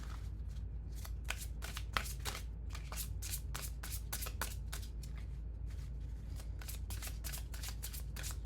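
Archangel oracle cards are shuffled close up in a steady run of quick riffling bursts, crisp paper flutters repeating throughout over a low background hum.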